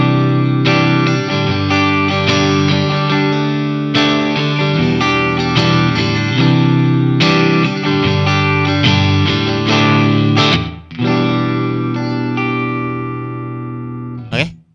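Electric guitar strummed through a DSC cabinet simulation, dense distorted chords in steady rhythmic patterns, loud and close, with a brief break near the end before a final chord rings out.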